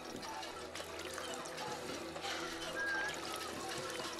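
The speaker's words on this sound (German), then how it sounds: "Genau. Wasserpumpe." A water pump in Fallout 4 pours water in a steady, gentle trickling stream, moderately faint and continuous, with game ambience in the background and no talk over it.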